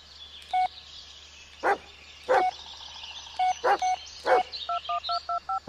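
Telephone keypad tones from a call being placed, a string of short, evenly pitched beeps in irregular clusters, ending in a quick run of rapid tones, with a dog yelping and barking loudly between them.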